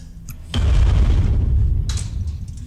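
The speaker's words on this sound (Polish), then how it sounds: "Jakiś wybuch." A sudden heavy boom in the video game Resident Evil Village erupts after a brief quiet, followed by a long rumbling roar that slowly fades, with a sharp crackle near the end.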